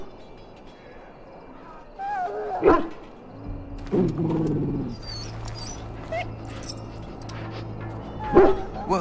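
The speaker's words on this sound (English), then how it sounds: "Now I can treat the dog properly, poor fella." In a video game, a dog barks in sharp bursts and whimpers between them, with a low engine-like drone and a voice speaking faintly beneath.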